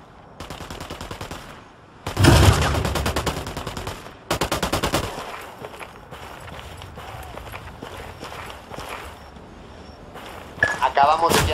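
Sniper rifle fire in the video game Ghost Recon Wildlands, heard as loud, sharp gunshot bursts with crackling echo, set among game voices and quieter rustling movement.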